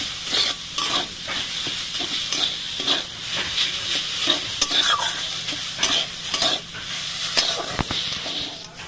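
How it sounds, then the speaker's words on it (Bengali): Pumpkin leaves and stems being stir-fried with a paste of mustard, chilli and ginger, with no water added: a steady close sizzle broken by repeated scraping and stirring strokes of a spatula in the pan, and no talk. "ভালো করে নেড়ে নিব"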